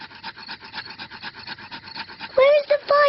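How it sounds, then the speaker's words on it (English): Daddy Pig rubs two sticks together to light a campfire, giving a steady scraping rasp in short repeated strokes, followed near the end by louder voices over it. "I'm going to make fire the old way, by simply rubbing these two sticks together"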